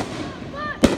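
One firework whistles upward and then bursts in a single loud, sharp crack that trails off briefly.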